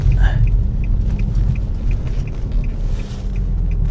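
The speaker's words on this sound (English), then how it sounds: "Cooling fans running." The radiator cooling fans of a flooded Infiniti G35 run as a steady, loud low rumble and hum close by, with a faint regular ticking over it and a voice speaking briefly.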